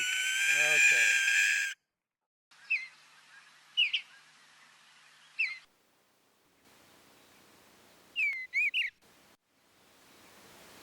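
An owl at Flying M Ranch in Merced calls and scolds in short, sharp bursts, separated by pauses of near silence.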